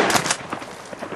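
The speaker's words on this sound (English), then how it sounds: "Shooting a shot." Rapid bursts of shotgun-like blasts crack outdoors during a duck hunt on the Upper Columbia, several sharp reports in quick succession, loud and close.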